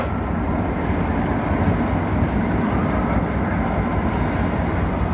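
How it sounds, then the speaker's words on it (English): A train rumbles past continuously, a loud, dense, steady roar with no pauses and no voices. "That's a train."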